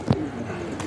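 A single low pigeon coo sounds close by at the start of this brief moment among a rooftop flock, followed by a faint rustle and soft background noise.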